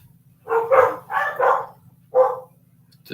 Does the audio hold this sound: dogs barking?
yes